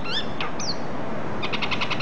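Small birds squabble with sharp, high chirps and a quick burst of rapid repeated tweets, close and fairly loud over a soft outdoor background.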